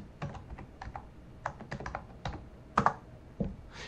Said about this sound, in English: just typing at the command line